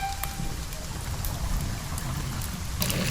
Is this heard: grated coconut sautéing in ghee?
no